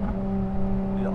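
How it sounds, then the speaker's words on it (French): Ferrari LaFerrari hybrid supercar with an 800-horsepower naturally aspirated V12 and an electric motor, driving at a steady, loud engine drone with strong low harmonics, a voice speaking over it. "Un V12 atmosphérique de 800 chevaux accompagné du moteur électrique."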